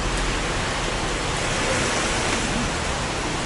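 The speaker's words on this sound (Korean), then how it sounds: "비가 너무 많이 와." Heavy rain pours outside a local Thai cafe in Chiang Mai as a steady, loud, dense hiss that stays constant throughout with no talk.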